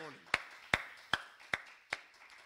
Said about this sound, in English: Let's give the Lord a hand clap this morning.